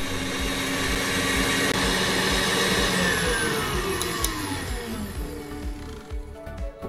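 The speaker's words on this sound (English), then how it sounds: "Now let's flip on our mixer and we're gonna blend that until it starts to thicken and soft peaks begin to form." An electric mixer whips cream with vanilla and bourbon, giving a loud, steady motor whir with a rattling beat that slowly drops in pitch as the mix thickens, then eases off near the end, with no talk.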